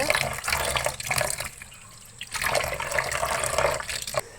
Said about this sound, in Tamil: இந்த மாதிரி நல்லா பிசைஞ்சு வாஷ் பண்ணி எடுத்துக்கோங்க.